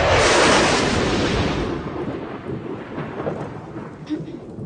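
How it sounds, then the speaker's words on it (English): Thunder crashes loudly in a dark, stormy night scene, a sharp burst that rolls into a long, fading rumble over several seconds. "There's a terrible crash of thunder."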